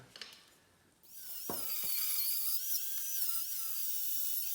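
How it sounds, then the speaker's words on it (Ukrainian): Angle grinder cutting off leftover metal parts in a workshop, a loud sustained high whine starting after a second of quieter handling noise, with the pitch wavering as the disc bites into the metal. "Оце все лишнє, оці всі штучки відрізаємо болгарку"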